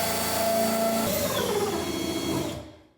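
A drill with a cutting bit bores into a plastic barrel during a soapbox car build, giving a loud, close, steady motor whine with grinding that shifts in pitch midway and then winds down to silence.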